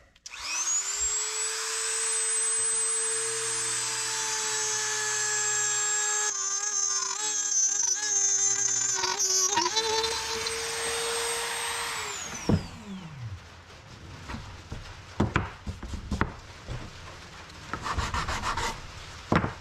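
A plunge router guided by a jig cuts through wood with a loud, steady high-pitched whine for about twelve seconds, then spins down; scraping and handling noises follow.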